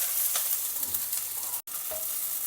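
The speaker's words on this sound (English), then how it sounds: "Next, add in the peeled small onions and saute them." Peeled small onions sauté for sambar in a hot pan, a continuous close sizzle with occasional stirring scrapes and a brief dropout midway, no voices.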